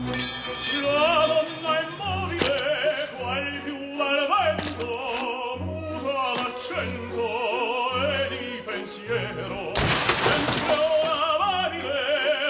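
Security glass on a BMW 7 Series shatters with a loud burst near the end, set against music with a steady pulsing beat and a few sharp earlier crashes.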